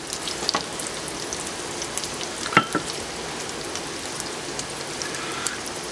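Four garlic cloves sizzle in a small pot at the start of a red wine sauce, giving a steady, crackling frying hiss with one sharp clink midway and no speech.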